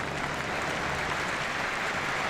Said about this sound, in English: And a nice round of applause for Kingsford Bouaké